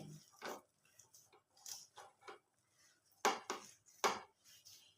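Fish ball mixture stirred with ground pepper in a bowl, giving soft intermittent clinks and scrapes with a few sharper knocks of utensil against the bowl, close and fairly quiet.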